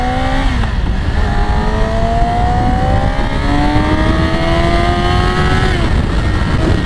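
A motorcycle engine revs hard toward high rpm on a long road ride, its whining note climbing steadily through the gears with loud, continuous wind and road roar underneath.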